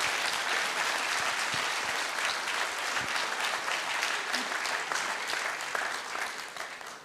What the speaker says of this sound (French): je crois qu'on peut applaudir Camille parce qu'elle avait un sacré trac.